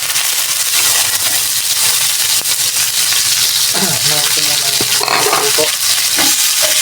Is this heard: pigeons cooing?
no